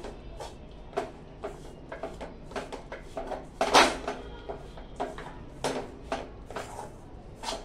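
A spoon scrapes and clatters against a hot pan while stirring a dry-fruit modak filling, with a string of sharp metallic knocks and scrapes at an uneven rhythm and one louder clatter midway.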